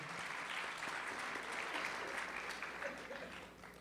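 An audience at a festival concert applauds the banjo player, a steady wash of many hands clapping that fades slightly toward the end, heard from some distance.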